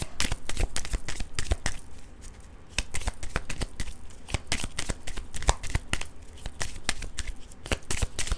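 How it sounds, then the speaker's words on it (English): A tarot card deck is shuffled by hand close up, with rapid, repeated crisp flicks and riffles in irregular bursts and only a short lull midway, no voices. "I'll do a few shuffles and then we'll see from another deck"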